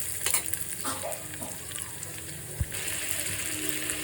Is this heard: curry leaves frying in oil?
yes